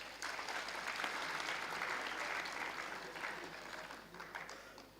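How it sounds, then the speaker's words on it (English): A crowd claps continuously at a university degree award ceremony, a dense, steady round of applause that swells early and then slowly thins toward the end. "Let's give them a huge round of applause."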